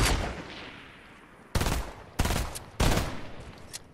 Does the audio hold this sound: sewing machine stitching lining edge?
no